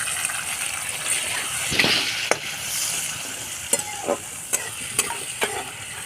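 Ground cumin and chilli paste fry with softened tomato in a pan, giving a steady close sizzle and hiss broken by several sharp spoon clinks and scrapes as it is stirred.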